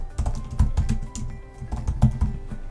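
Name being typed on a computer keyboard to fill a text box for an email signature: rapid, irregular clusters of close, crisp key clicks with brief pauses, no talking.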